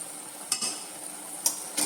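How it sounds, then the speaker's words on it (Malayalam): Garlic pickle being stirred with chilli powder, asafoetida and roasted fenugreek powder: a few soft scraping and clinking strokes of a spoon against a pot, spaced out over near-quiet. "നമുക്ക് നല്ലോണം ഒന്നുകൂടെ ഒന്ന് മിക്സ് ചെയ്ത് കൊടുക്കാം."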